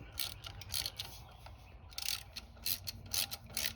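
A hand ratchet tightens a small bolt on a Cub Cadet ZTS2 zero-turn mower, bursts of quick close clicking separated by short pauses, with no voices.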